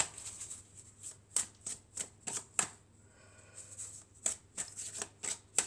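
Tarot cards shuffled by hand, a quick run of crisp riffling bursts with a short pause in the middle, close and fairly quiet with no talk.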